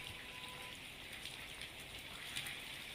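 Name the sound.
heavy rain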